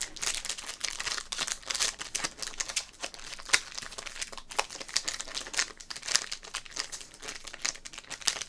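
Crinkly plastic wrapper of a baseball card pack handled up close, giving dense, continuous crackling and crumpling with sharper snaps throughout, loud and alone without talk.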